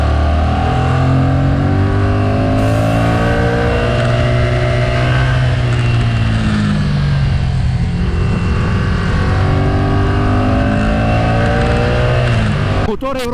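A Yamaha Tracer 700 (2020) 689cc motorcycle engine revs loudly and continuously up close, pitch rising and falling through gear changes as the bike accelerates and eases off.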